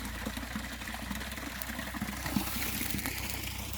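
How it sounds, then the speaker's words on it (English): A small stream spills over a mini waterfall in an English countryside garden, giving a steady, broadband rushing wash that holds even throughout, near and moderately loud, with no talk. "You can hear the stream going."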